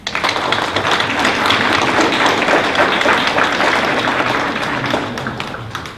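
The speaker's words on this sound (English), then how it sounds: "join me now in congratulating your parents and guardians in attendance here with a warm round of applause" A warm round of applause from parents, guardians and students at a 2019 National Junior Honor Society induction ceremony: loud, dense crowd clapping that swells and holds, then tapers slightly toward the end.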